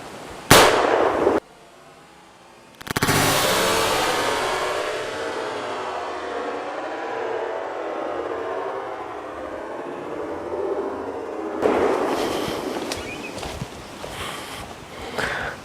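A Remington New Army 1858 .44 black powder revolver replica fires outdoors: a sharp blast near the start, then a second loud report that rolls into a long, slowly fading echo, and later muffled handling noises.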